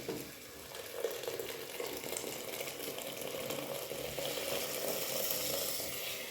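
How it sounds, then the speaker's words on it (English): Lentils cook in a pot over high heat with hot water added, giving a faint, steady bubbling sizzle with small crackles, heard alone without talk. "I'm going to cook these lentils on high heat. I'm not lowering the heat. I'm going to add some hot water."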